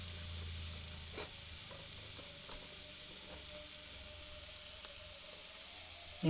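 Boiled chowmein noodles tossed with masala in a pan, heard as a soft continuous sizzle with a few light stirring scrapes, faint and even, ending in a brief louder bump, with no speech.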